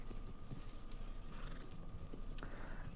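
Horse hooves clip-clop steadily while riding in the video game Red Dead Online, a continuous rhythmic gallop heard up close and alone over the game's ambient background.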